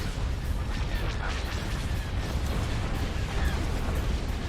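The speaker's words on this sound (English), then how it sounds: "the secondary explosions going off." Secondary explosions rumble on starships in a Star Wars Fall of the Republic game mod: a continuous, dense roar of booms and crackling blasts, loud and steady throughout with no distinct pauses.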